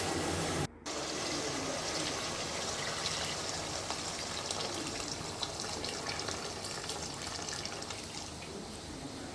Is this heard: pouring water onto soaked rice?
yes